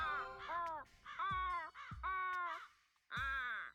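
Crow caws from the video game Root Letter, a series of harsh, drawn-out calls in quick succession with short gaps, loud and clear, with a final longer caw after a pause.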